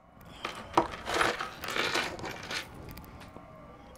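Dice rolling and clattering on a hard surface, with a series of small knocking bounces spread over a few seconds before settling. The sound is fairly quiet and close, with no voices.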